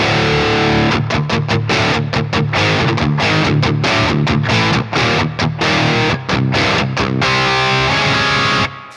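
A heavily distorted electric guitar, a Jackson Virtuoso with an EMG 81 pickup in drop C through a Marshall amp simulator, plays chugging low riffs with sharp rhythmic stops, loud and up front, ringing out at the end.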